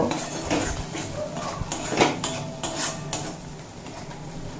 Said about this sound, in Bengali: আর দিয়ে দেব অল্প একটুখানি কাশ্মীরি রেড চিলি পাউডার দিয়ে আবারও মশলা কষিয়ে নেব।